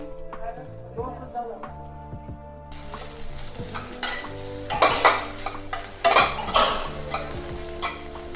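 Wild leafy vegetables stirred as they fry in a pan, a steady sizzle under repeated scraping stirs that grow louder and busier in the second half.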